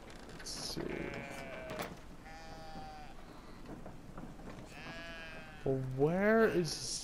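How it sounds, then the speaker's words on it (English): A goat bleats in the video game Brothers: A Tale of Two Sons, giving several wavering, tonal cries, with the loudest and closest call near the end over a steady ambient game background. "Oh wait, no, I got a goat over here."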